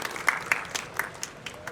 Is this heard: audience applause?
yes